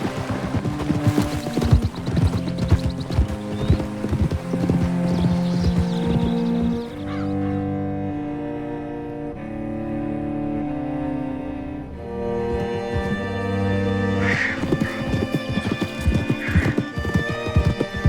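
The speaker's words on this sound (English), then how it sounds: "Hitch your horse up here." Horse hooves clip-clopping and a horse whinnying in the Red Dead Redemption 2 video game, with steady close hoofbeats set against a layered musical score and several whinnies toward the end.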